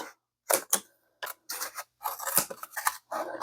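Scissors snip through an empty package in a handful of crisp, separate cuts, close and clear with quiet gaps between them.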